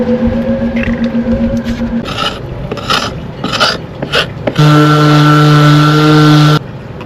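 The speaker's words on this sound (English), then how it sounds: "Removing that failed varnish" Failed varnish being scraped off a sailboat caprail, a series of short rasping scrapes in bursts, close and loud, with a steady tonal engine-like hum underneath and a louder droning stretch near the end.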